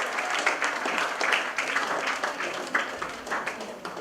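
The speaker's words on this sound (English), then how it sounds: "It's our humble duty to give a big round of applause to Mr." An audience at a management graduate session gives a sustained round of applause, dense and even clapping that carries on steadily at moderate loudness throughout.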